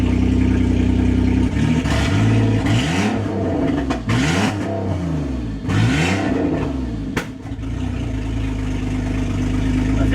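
The engine of a 2001 Ford Escape revs loudly and up close, climbing and falling through several repeated throttle blips over a steady idle, with no talking.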